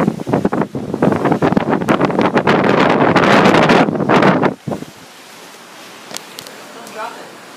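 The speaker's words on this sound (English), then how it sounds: "Also, prepare for wind," Strong wind roars across the microphone on the deck of a cruise ship at sunset, a loud, buffeting gust that suddenly drops away to a quieter background with faint sounds.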